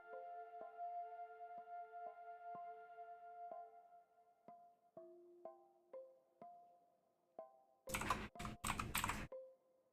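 Rapid computer keyboard typing rattles in one short burst of clustered keystrokes near the end, following a run of soft, evenly paced electronic tones; no one speaks.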